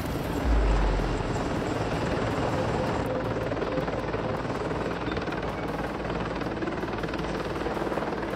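Steady, loud AH-64 Apache attack helicopter rotor and engine drone, continuous throughout with a broad rumbling wash and a brief low thump near the start.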